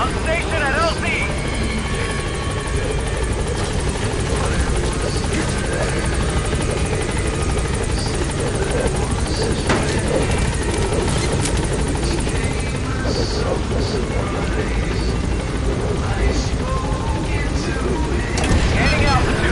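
A helicopter arriving at a landing zone in the Metal Gear Solid V: The Phantom Pain video game, its rotor thumping steadily and loudly throughout, with voices speaking over it.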